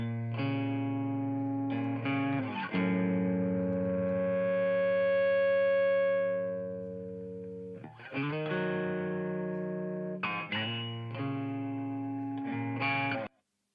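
An electric guitar through a Boss SD-1 overdrive pedal plays sustained chords and riffs with a thick, warm crunch, one chord ringing out long before a sudden cutoff.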